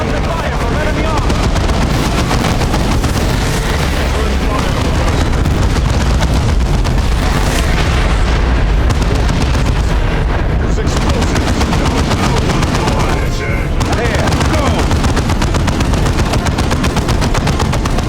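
Explosions and gunfire in the Warhammer 40K Dawn of War 2 Chaos Rising video game, dense continuous rapid shooting and booming blasts, loud and unbroken throughout, with voiced unit lines over the battle.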